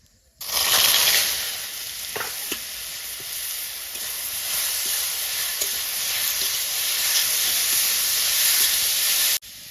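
Papaya pieces drop into hot oil and burst into a loud, sustained sizzle that starts suddenly, holds steady with faint crackles and scrapes for several seconds, then cuts off abruptly. No one speaks.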